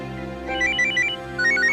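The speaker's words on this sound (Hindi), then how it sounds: "फॉरेन का फोन आ गया" An electronic phone ringtone plays a repeating melodic trill, two short bursts of ringing over a low steady hum.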